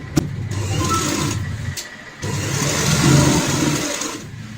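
An electric sewing machine stitches a cushion cover, its motor whirring steadily in close, fairly loud runs broken by one short pause, with no talking.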